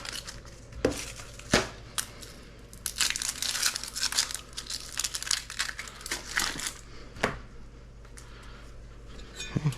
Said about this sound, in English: All right, let's peel it.